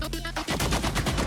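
Rockets fired in the Overwatch Sierra video game, a rapid burst of sharp blasts after a brief tonal effect, loud, close and rhythmic like gunfire.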